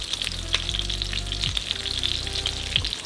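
Chicken pressed down and pan-fried crisp alongside vegetables in a frying pan, a dense, continuous crackling sizzle with scattered spits and pops, close and steady, with a low hum underneath.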